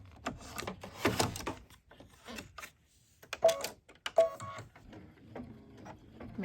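An embroidery machine stitches out a design in irregular mechanical bursts of rapid needle clatter, separated by short pauses and faint whirring, fairly close and with no talking.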